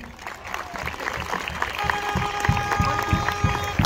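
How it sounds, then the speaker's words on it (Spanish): Crowd at a school marching band awards ceremony applauds Chilean Air Force personnel, sustained clapping and some cheering, with a band's tones and voices mixed in. "para quien pido un fuerte aplauso."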